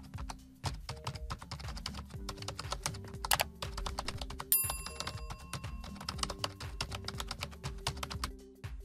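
Rapid keyboard typing, close and continuous, with short bursts of keystrokes and a few brief pauses.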